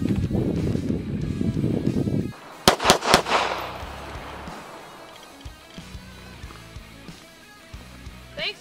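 Gunshots from an FMK 9C1 G2 Elite pistol: three to four sharp, loud cracks in quick succession after a stretch of talking, followed by quieter outdoor background and intermittent voices.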